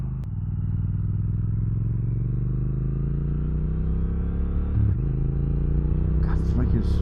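A 2024 Triumph Speed Twin 1200 parallel-twin motorcycle with a quick shifter cruises along, its engine a steady low rumble that climbs gradually in pitch, with one brief dip as a gear changes and faint wind and clatter near the end.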